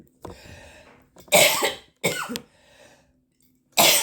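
Three sharp, loud coughs from one person, close by, with short pauses and quiet breathing between them.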